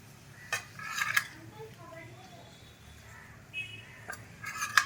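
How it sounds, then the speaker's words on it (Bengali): Mushrooms stirred in butter in a pan on a home stove, heard as intermittent metallic scrapes and clinks of a utensil against the pan over a soft low background, with small bursts at the start and end. "দু মিনিট মতো খুব ভালো মতো এটাকে ফ্রাই করে নেব আর বাটারের সাথে মাশরুমটা মিক্স করার পর"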